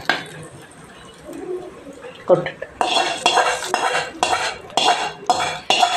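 A kitchen scene in which tempering with curry leaves is poured into a pot of ven pongal and stirred, heard as metal clanks and scraping of a utensil against the vessel in quick bursts, close by.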